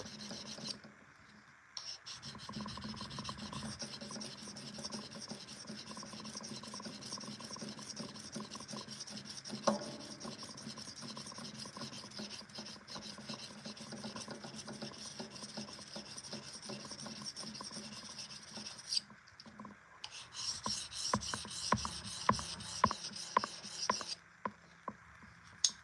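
A file rasps steadily along the spine of a pocket knife blade to cut a swedge, with long even back-and-forth strokes that sound close and alone, then shorter, sharper strokes toward the end.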